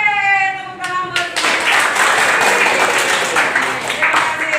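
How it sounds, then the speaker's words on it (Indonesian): A group of teachers and participants clapping hands at a school coaching session, starting after a sustained tone fades, then a dense, fairly close round of claps filling the rest. "tepuk tangan buat"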